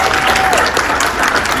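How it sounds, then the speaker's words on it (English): A leadership event audience bursts into a loud, dense round of applause, close and continuous, with faint crowd voices mixed in. "Round of applause."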